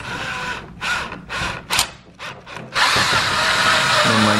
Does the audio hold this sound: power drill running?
yes